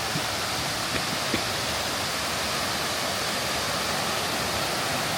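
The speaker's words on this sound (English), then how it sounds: "Here's our first cool waterfall." Mae Sa waterfall in Chiang Mai, Thailand, pours in a steady, dense, broadband roar that stays even and close throughout, with no voices over it.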